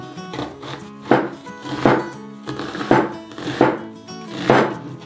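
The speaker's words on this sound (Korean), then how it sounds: "양파 반 개까지 썰어졌고요." Knife chopping half an onion on a board, a run of several firm cuts at a steady rhythm, close and fairly loud with a faint background tone between strokes.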